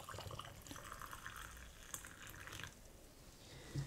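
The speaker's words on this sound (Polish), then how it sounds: "I teraz zalewamy naszą zalewą." Brine trickles and splashes steadily into jars of roasted marinated peppers for several seconds, a close, continuous pouring with faint dripping near the end.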